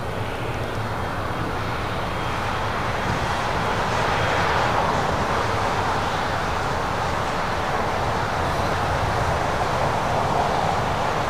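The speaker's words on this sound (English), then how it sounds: "Delta Airlines Flight 187 A330 Neo coming in from London Heathrow, just 4 minutes out, south side arrival." A Delta Airlines Airbus A330neo arriving from London Heathrow on a south-side approach into LAX, its broad engine roar steady and fairly loud throughout, with no pause or fade.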